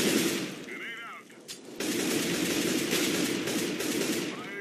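Rapid automatic gunfire from the video game CS:GO, loud bursts of shots that pause briefly before a sustained stretch of firing, with faint game sound effects mixed in.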